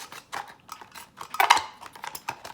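Scissors snipping through a thin plastic sour cream container from top to bottom, a quick run of crisp, close cuts and crackles with one louder crunch near the middle.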